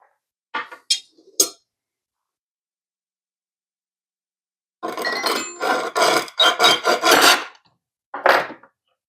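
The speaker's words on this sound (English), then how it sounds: "Let's do some file work on this. Cut this guy in a couple of pieces" Rasping strokes of a file against neon glass tubing to score it for cutting: a few short scrapes, a pause, then a longer run of quick back-and-forth rasps and one final stroke, close and clear with no talking.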